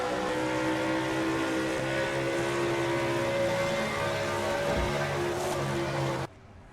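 Stock cars race in a video game, their engines giving a steady, loud droning roar with layered tones and a brief swell near the end before the sound cuts off abruptly.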